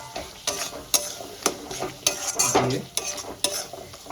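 Ground coriander, chili, turmeric and cumin powders stir-fried in a pan for a katla fish head curry with elephant foot yam: close, repeated scraping strokes of a spoon over a steady sizzle.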